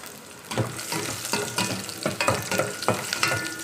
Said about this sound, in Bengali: বাগার দিচ্ছি, দেখেন রসুন রসুন ছেড়ে দিলাম।